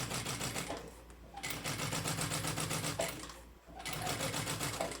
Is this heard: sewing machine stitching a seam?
yes